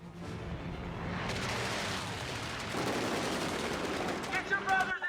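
Continuous rapid machine-gun fire from strafing planes on a film set rattles on, dense and roaring, mixed with a rumbling backdrop, with a few sharper cracks toward the end.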